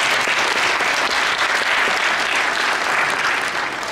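Audience applause at a bodybuilding and fitness competition fills a hall, dense and sustained at a steady loud level throughout, with no voices standing out.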